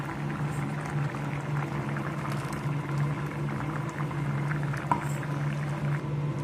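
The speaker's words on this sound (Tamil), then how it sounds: "இந்த சைடு பார்த்தீங்கன்னா கிரேவி நல்லா கொதிச்சிட்ருக்கு" A steady, close bubbling and simmering of thick vada curry gravy in a pot, continuous with a low hum and occasional soft pops.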